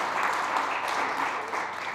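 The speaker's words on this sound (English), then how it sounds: "Give them a round of applause" A seated audience at a food-themed talk applauds steadily, a dense wash of many hands clapping at moderate volume throughout, with no voices on top.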